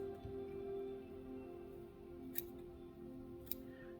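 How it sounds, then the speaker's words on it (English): Scissors trimming deer hair while tying a Yellow Muddler fly, two short crisp snips close by against a steady low hum of the room. "trimming deer hair with your scissors, they dull them up very quickly"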